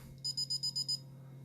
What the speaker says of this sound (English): you press and hold it. It'll beep a little bit